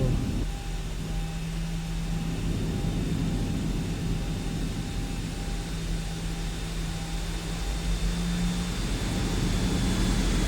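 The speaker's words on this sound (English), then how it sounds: "I think I've got a plane coming through me." A prop airplane in a flight simulator, with a steady engine drone and tonal hum that hold evenly throughout under a faint broadband hiss, with no voices.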